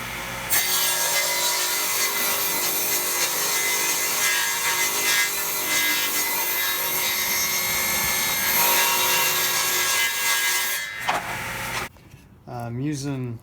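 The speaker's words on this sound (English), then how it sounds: "All right, so we're going to rip this real quick." A power saw rips lengthwise through a plywood board for a cornhole board build, cutting loudly and steadily for about eleven seconds before winding down, followed by a brief whirring spin-down.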